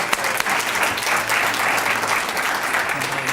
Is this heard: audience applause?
yes